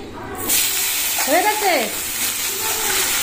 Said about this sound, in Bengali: দেখো তেলের মধ্যে জিরে দিয়ে দিলাম